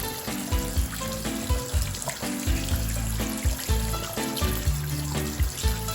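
Thomas and Percy color-changer toy models dipped in cold water, with soft sloshing, trickling and small splashes over a steady background hiss, fairly quiet and close.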